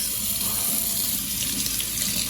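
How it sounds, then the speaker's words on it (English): Warm water runs steadily from a newly installed Delta Varos kitchen faucet bought at Costco, a constant loud hiss of flow into the sink with no talk. "Still some warm water coming out."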